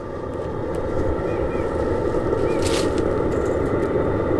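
A 5 kW diesel heater runs in a greenhouse setup with a steady, loud whirring drone and a low rumble that hold constant throughout, alone with no talk.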